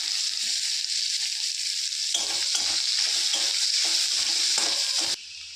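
Onions are dropped into hot oil tempered with dried red chillies and black cumin and fry with a bright, constant sizzle, while a spatula scrapes the pan in quick, close strokes before stopping abruptly.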